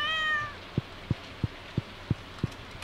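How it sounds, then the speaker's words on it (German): Short cat meow from the Stardew Valley video game, a brief rising-falling cry at the start, followed by a soft, regular series of dull taps against faint background ambience. "Ey, Katze!"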